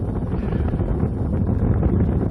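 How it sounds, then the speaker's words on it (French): Cold desert wind, almost icy, buffets the microphone in a steady loud low roar with no talk. "Il y a un vent frais, presque glacial."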